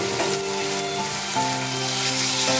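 Paste of garlic and green chili frying in a pan for spicy dry Bombay duck fish, a loud, steady, close sizzle with stirring. A sustained musical tone plays underneath, and no one talks.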